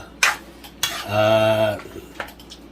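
A metal utensil knocks and scrapes inside a cooking pot of octopus, squid and mussels for pancit palabok, with sharp clanks, a sustained ringing metallic scrape, then a lid set back on, close and without speech.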